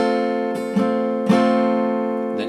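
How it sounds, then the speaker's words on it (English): An F bar chord on guitar, strummed a few times at a steady tempo: full, bright, sustained chord strokes, close and clear, with no one talking. "First you're strumming this F bar chord"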